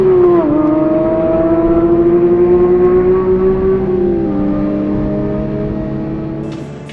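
A Porsche GT3 on a race track howls at around 9,000 rpm, a loud, sustained high-pitched engine wail holding steady before dipping slightly in pitch and easing off near the end, with no voices.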